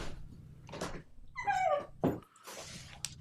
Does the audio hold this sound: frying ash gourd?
no